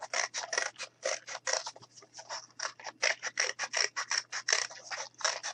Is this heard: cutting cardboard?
yes